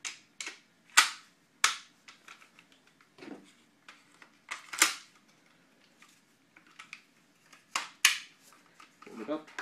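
Magpul FPG (FMG-9) folding submachine gun being folded up, giving a series of sharp plastic-and-metal clicks and snaps close by, several spaced hits with a couple of louder latching clacks.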